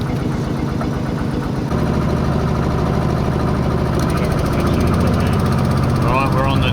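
A riverboat's motor runs on the Nam U River in Laos, its mid-pitched engine chugging steadily and picking up after a couple of seconds, with some voices and other activity mixed in.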